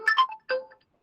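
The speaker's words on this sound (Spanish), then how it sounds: "¿Quién llama por teléfono?" A telephone ringtone sounds during a Spanish-language physical examination class, with two short melodic bursts close by and then silence.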